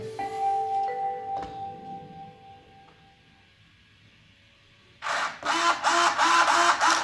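Thin electric whines from the steering servo of a Traxxas X-Maxx RC truck fade in and out, then a quick series of loud buzzing bursts as the wheels are swung back and forth.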